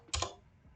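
A short, quick burst of computer keyboard keystrokes entering git commands, a few close clicks in a rapid cluster before a quiet tail.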